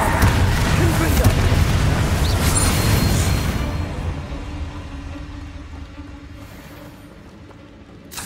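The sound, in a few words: explosive spell blast in video game Hogwarts Legacy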